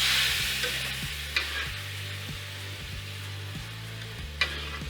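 Spaetzle dumplings stirred in browned butter in a pan: a steady, soft sizzle with a regular scraping rhythm of the spoon and a couple of brighter clinks, near and without talk.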